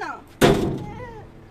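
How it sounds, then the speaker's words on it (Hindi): A door slams shut with one sharp, loud thud that decays quickly, while a voice speaks faintly before and after it. "चलें दरवाजा बंद कर दे"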